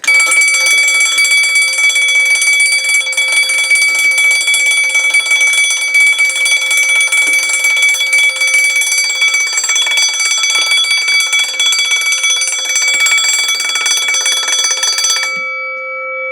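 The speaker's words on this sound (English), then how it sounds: "so the horn is on" A boat's bilge alarm horn blares continuously, a loud steady electronic tone that holds for about fifteen seconds before cutting off abruptly, with no talking over it.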